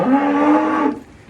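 A single cow moos once, close and loud, a sustained low bellow lasting about a second before cutting off into quiet farm ambience.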